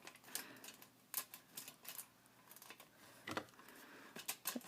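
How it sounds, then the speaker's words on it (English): A handheld hole punch snaps through paper and tin foil, giving a string of sharp, close clicks and crunches at irregular intervals, fairly quiet with no talking. "And then I'm just gonna punch."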